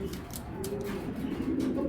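Racing pigeons offered for sale, among them a very light-coloured bird and a red checker hen, coo in low, continuous murmurs that carry on steadily throughout, with no talk heard.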